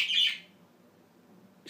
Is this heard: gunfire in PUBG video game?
no